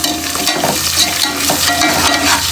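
Onions frying in a pan, a loud, dense, continuous sizzle with stirring strokes mixed in, close up, no speech over it.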